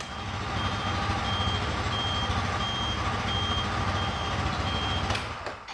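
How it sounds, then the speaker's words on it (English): Scooter indicators ticking in a steady, evenly spaced series of high beeps over a constant engine or road hum, moderately close, ending in a brief clatter, with no talk. "Indicators and stuff, making noise."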